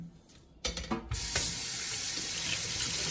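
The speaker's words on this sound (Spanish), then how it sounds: "lo vamos a lavar el frasquecito. Vamos a lavar así" A small glass jar being washed under a running kitchen tap, with a few clinks and splashes before a steady, close stream of water takes over.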